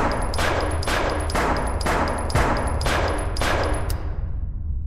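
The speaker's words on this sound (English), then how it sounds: "Let's see how many shots we get." Rapid gunshots from a weapon with unlimited ammo in the video game DEPPART: Prototype, fired in a steady rhythm of about two per second. They are loud, sharp and close, and there is no talking.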